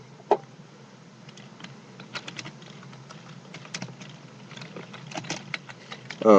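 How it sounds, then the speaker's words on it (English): Quick irregular taps of typing on a keyboard or phone screen while posting on Facebook, close and soft, in scattered bursts over a low steady background hum. "I'm typing on my Facebook as well"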